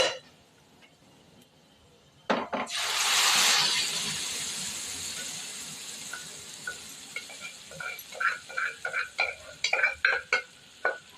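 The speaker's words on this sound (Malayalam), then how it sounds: "ഇനി നമുക്ക് നമ്മളെ പരിപ്പ് അതിലോട്ടങ്ങ് ഒഴിച്ചു കൊടുക്കാം" Dal poured into a pan of fried onions and garlic for chembila curry gives a loud burst of sizzling that slowly fades, followed by soft stirring and scraping near the pan.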